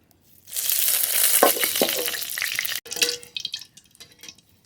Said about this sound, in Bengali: কড়াইতে সর্ষের তেল